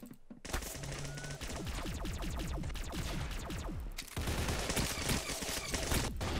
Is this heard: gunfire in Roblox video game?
yes